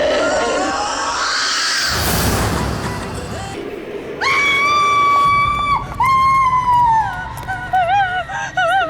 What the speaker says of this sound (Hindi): तुम क्यों चिल्ला रही हो